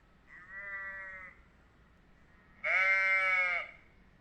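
Two sheep bleats, close and clear: a shorter softer one, then after a pause a longer, louder, wavering bleat. No talking.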